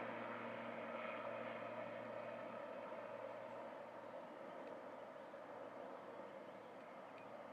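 ATR 42 turboprop aircraft at Manchester Airport, a faint, steady propeller and engine drone heard from a distance, slowly easing off with no voices.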